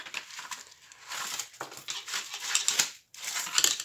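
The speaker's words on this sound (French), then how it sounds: "on va commencer à déballer cela" Packaging of a diamond painting kit being opened up close, with bursts of crinkling and rustling plastic and a few snipping, crushing sounds, fairly loud and continuous with one brief pause.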